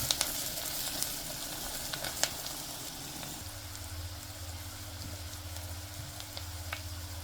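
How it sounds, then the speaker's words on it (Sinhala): Salmon curry with chili powder frying in a pan gives a steady soft sizzle, with a few light scraping stirs and small clicks from the spoon, close and fairly quiet. "ඊට පස්සේ මම මේකට මිරිස් කුඩු ටිකක් දාගන්නවා. ඒක හොඳට බෙදෙන්න ආරිනවා."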